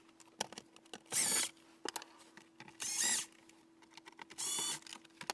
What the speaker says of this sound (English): Remove the 6 T15s around the outer edges.